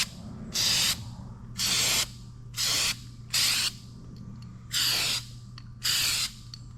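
A spray can lays a light coat of paint on a kayak trailer in six short, even bursts of hiss, each about half a second, with low hum between them.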